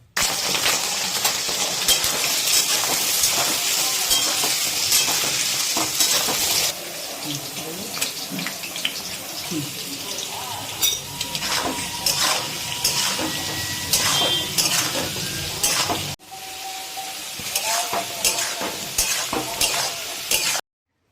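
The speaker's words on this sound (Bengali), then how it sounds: "প্রথমে আমরা আলুকে নুন হলুদ দিয়ে ভেজে আলাদা থালাতে তুলে রাখবো" Potato pieces fry in mustard oil with salt and turmeric over a high gas flame, giving a steady close sizzle with frequent scraping stirs that thins out partway and then returns.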